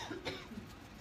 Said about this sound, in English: Coughing tonight.